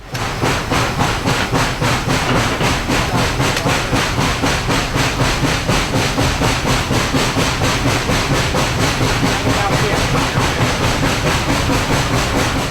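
Inside the cab of the steam locomotive 765, the throttle is open and the exhaust beats hard in a fast, steady rhythm, with loud mechanical clatter and hiss filling the space for the whole stretch.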